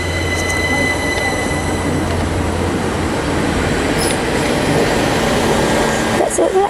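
A Class 387 electric train passes through Didcot Parkway station with a loud, continuous rolling rumble and squealing wheels, with a faint voice present.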